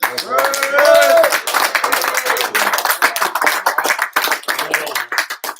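Scattered hand clapping from a small gathering after a sermon, uneven bursts of claps with voices talking over the start.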